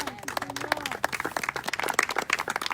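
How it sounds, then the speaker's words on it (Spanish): Congregation at a church service clapping in scattered, uneven bursts, moderately close, with a faint voice and some tonal sound underneath. "¿Cuántos damos un aplauso a Dios a eso?"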